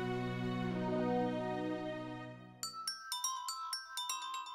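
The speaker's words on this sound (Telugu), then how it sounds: "రింగ్ అవుతుంది" A phone rings with a short run of bright repeated chime tones, following a sustained tonal musical drone that fades out.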